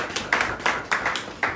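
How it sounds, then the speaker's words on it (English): A handful of guests at an art gallery grand opening in Gambia give a short, sparse round of clapping, with a few distinct, close hand claps over little more than a second. "if you guys just give these three people an applause for actually attending"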